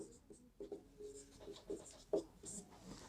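A pen scratches out a math solution by hand on paper in short, soft strokes and taps, faint and close, with quiet speech woven among the strokes.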